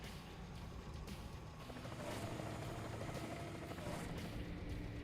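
A helicopter unit in a real-time strategy game gives off a faint, steady rotor drone that continues without a break, with a slight lift partway through.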